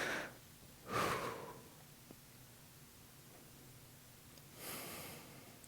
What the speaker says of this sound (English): Try to control my breathing so it's not so obnoxious when you're watching this.